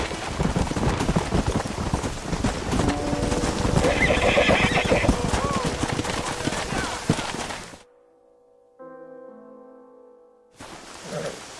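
A stallion in the Red Dead Redemption video game whinnies and snorts over clip-clopping hooves with patter like rain, loud and close, then cuts to near silence with a faint musical tone before a brief return of sound.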